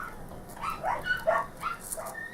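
Several dogs barking off and on in the background of a workshop where a 3D print is being repaired, bursts of barks and yips at a moderate distance over a quiet hum.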